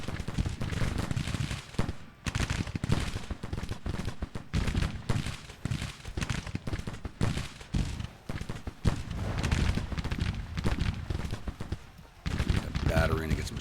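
Musket volleys and artillery fire in the Grand Tactician Civil War strategy game sound at the Battle of Cairo, a dense, continuous crackle of gunfire with heavy booms. Someone talks over the battle.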